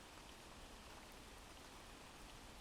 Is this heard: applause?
no